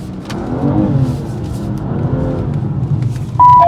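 A BMW M2 accelerates hard on a track at a BMW M 50th anniversary event, its engine note rising and falling steadily as it oversteers, loud and continuous without talk.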